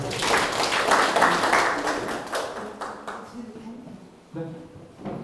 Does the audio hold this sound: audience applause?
yes